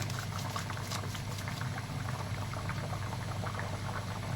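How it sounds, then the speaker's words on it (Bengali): Jackfruit seed curry gravy at a steady rolling boil in a pot, continuous bubbling and fizzing up close with dense patter, no voices. "তো ঝোলটা ফুটে গেছে"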